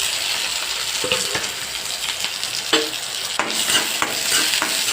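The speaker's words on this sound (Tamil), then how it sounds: "ஒரு பெரிய வெங்காயங்க ஒரே ஒரு பச்சை மிளகாய் எல்லாம் போட்டு ஃப்ரை பண்ணிக்கலாம்" Chopped onion and a green chili frying in a pan, a continuous close sizzle with several clinks and scrapes of a spoon stirring.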